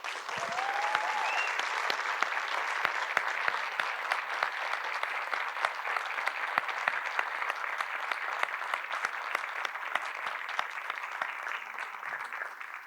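A church congregation breaks into sustained applause, dense and even, with many hands clapping together. It holds at a steady loudness for about thirteen seconds in a reverberant room, with faint voices mixed in.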